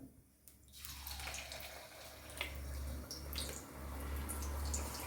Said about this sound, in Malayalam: എണ്ണ തിളച്ചു കുറേച്ച കോരി ഒഴിക്കാം ഒരു സ്പൂണിന് ഒരു അര സ്പൂൺ വീതം